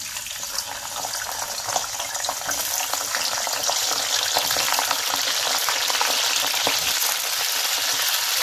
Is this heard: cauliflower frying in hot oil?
yes